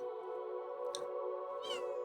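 Ichigo, a female calico cat, gives two short meows, the second rising and drawn out. Both sit over a steady, loud hum from game music or background tone.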